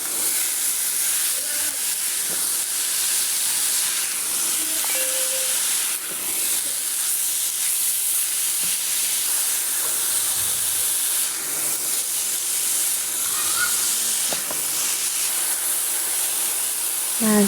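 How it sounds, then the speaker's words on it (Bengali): Chopped carrots fry in ghee for carrot halwa, giving a continuous loud hiss and sizzle that holds steady throughout, with faint clinks now and then. "ভাজা হয়ে গেলে গাজর কাটাগুলো দিয়ে দেবেন। কয়েক মিনিট ভালো করে নেড়ে চেড়ে ভেজে"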